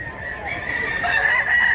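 A rooster crows loudly and steadily over the background of a busy livestock market in Mantalungon, Barili, Cebu, a single drawn-out call in one short burst.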